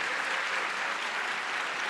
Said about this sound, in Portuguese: Uma salva de palmas para os nossos ilustradores e ilustradoras.